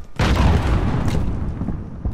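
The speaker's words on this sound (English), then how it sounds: "Do you not hear that explosion?" A single explosion booms in the Warzone battle royale video game, a sudden heavy blast that swells and then rolls off into a rumbling decay.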